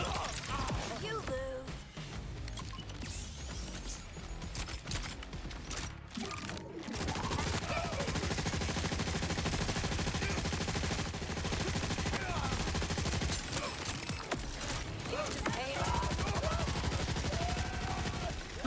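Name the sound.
SMG gunfire in a video game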